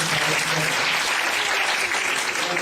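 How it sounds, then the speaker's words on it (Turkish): A crowd applauds a respected teacher at a Turkish music gathering, with loud, dense, continuous clapping from many hands filling the whole moment at a constant level. "Onu alkışlamanızı istiyorum."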